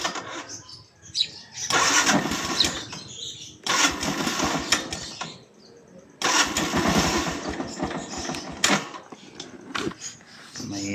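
A motorcycle with a weak 10.5-volt battery cranking: three separate starter bursts of sluggish, labored churning, each a second or two long, with short pauses between, close by and with someone talking at times.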